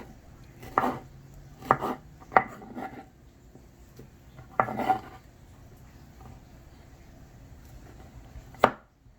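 Knife chopping vegetables for pico de gallo on a cutting board, done at home for grilled street tacos: several sharp, close chops in small bursts with pauses between them and one last hard strike.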